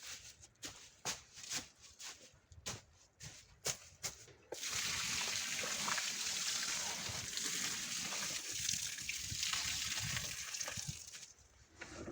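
Water pours steadily onto a compost heap of brown fallen autumn leaves, first as a few short splashes and then as a continuous close, soft pouring rush that fades near the end.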